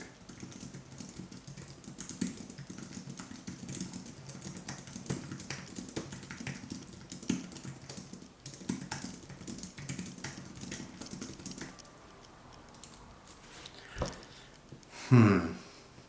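Rapid, steady tapping on a Keychron K3 Max low-profile keyboard during a typing test, close and fairly soft, continuing for about twelve seconds before easing off, with a short breathy noise near the end.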